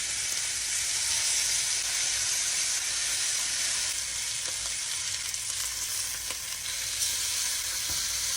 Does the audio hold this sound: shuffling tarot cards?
no